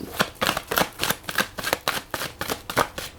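Oracle cards are riffle-shuffled in quick, rhythmic bursts of papery flicking, repeating about every third of a second. They sound close and distinct, with no talking.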